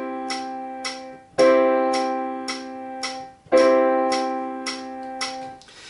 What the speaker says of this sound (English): Let's play with the metronome.